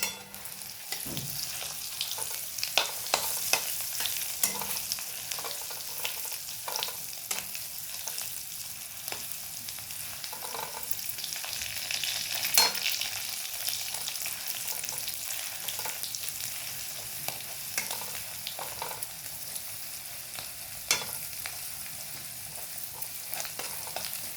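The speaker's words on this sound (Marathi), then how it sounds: "तो यामध्ये घालून चांगला परतून घ्यायचा आहे" Onion, garlic, coriander, coconut and masala paste frying in a pan and stirred, a steady close sizzle with frequent scraping clicks of the spoon throughout, no voices.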